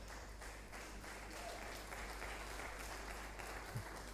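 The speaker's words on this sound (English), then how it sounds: "Why are we clapping?" Sustained applause from an indoor audience at a Women in Chemistry chapter event, steady clapping throughout at a moderate distance.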